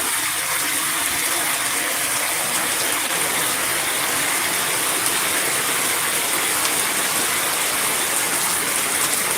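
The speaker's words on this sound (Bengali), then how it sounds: "কি পরিমাণে বৃষ্টি" Steady, loud broadband rush of heavy rain pouring down continuously, with no breaks and no voices.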